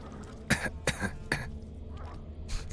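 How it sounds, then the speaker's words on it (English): Three short, dry coughs from a character in the video game The Witcher, in quick succession, then a couple of fainter ones, over a low steady background hum. "The cough sounds so fake."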